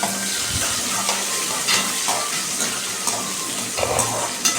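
Okra and other vegetables for sambar sautéing in a pan, a steady close sizzle with faint stirring scrapes throughout, no voices.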